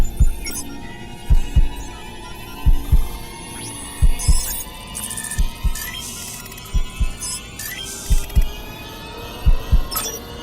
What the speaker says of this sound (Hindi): तारा की धड़कन 150।